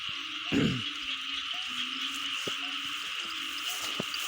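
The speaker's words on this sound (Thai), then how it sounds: "เสียงกบเสียงเขียดห้อง" Frogs croak in a freshly flooded rice paddy while rain is still falling, with one loud croak up front and softer, evenly spaced calls following over a steady hiss of rain and night insects.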